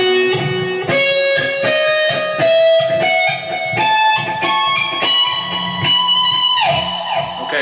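A distorted electric guitar plays a quick lick of picked notes without harmonics, climbing in pitch, loud and up close with no talking, from a solo.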